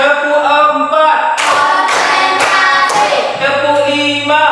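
A class claps together in a counted rhythm, with four sharp group claps evenly spaced about half a second apart while a teacher's voice counts aloud over them.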